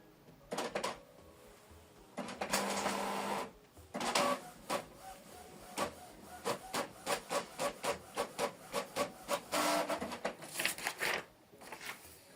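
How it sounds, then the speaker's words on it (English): A Canon Pixma TS7550i inkjet printer prints a test page close by: mechanical whirring, then a fast run of rhythmic clicking and shuttling as the page feeds through. "Print test page."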